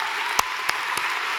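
Audience at a university graduation ceremony applauds with a dense, steady wash of clapping from many hands, loud and continuous throughout.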